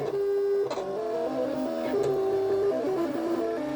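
A Silhouette cutting machine working slowly through printed magnetic bookmarks, a loud steady whirring motor whose pitch shifts and steps as the blade moves, constant and close with no voices.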